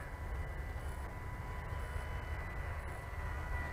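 The motor of an XK A700C Sky Dancer RC fixed-wing glider in flight, a steady distant buzzing drone with a faint high whine and wind noise, continuous and unbroken.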